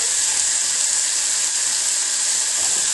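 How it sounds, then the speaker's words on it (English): Canned whole tomatoes drop into a hot soup pot and sizzle loudly, a dense steady hiss held evenly throughout without pause. "There's that sizzle we all love."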